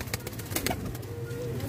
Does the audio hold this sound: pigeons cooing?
yes